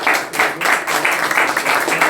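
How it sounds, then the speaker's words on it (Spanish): A church congregation claps together as an offering of praise, a loud burst of many hands with a brisk rhythm sustained over a couple of seconds. "Le damos una ofrenda de palmas a nuestro buen Dios."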